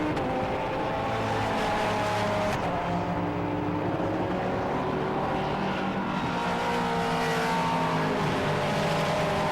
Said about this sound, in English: Chasing now the number 13 Porsche.